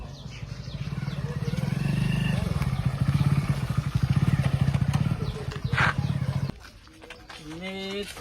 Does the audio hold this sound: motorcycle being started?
yes